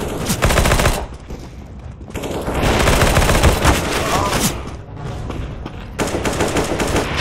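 Rapid automatic gunfire in Counter-Strike: Global Offensive, loud dense bursts of shots with brief pauses between volleys, continuing across the whole stretch with faint voices mixed underneath.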